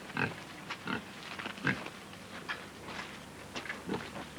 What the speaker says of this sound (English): feeding swine.